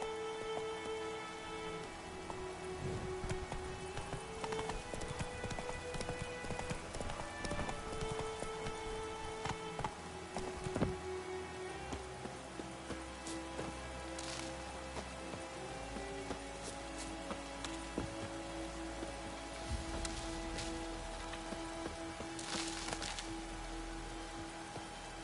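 Steady rain patters across a surface in The Witcher: Wild Hunt, a dense even hiss that holds for the full length, with faint hoofbeats of a horse and low rumbling underneath.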